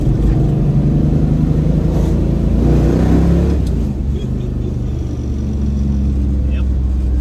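A classic Mopar drag racing car's engine revs and drops as gears are shifted while driving, a loud, close, rumbling drone with a surge in the middle before settling back, with some talk over it.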